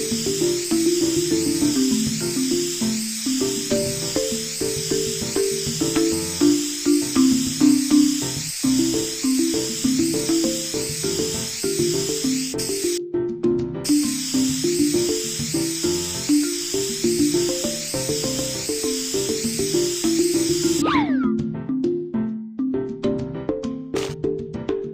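A continuous hissing spray from a spray can of sequins runs almost nonstop over a rhythmic background beat, pausing briefly twice before resuming.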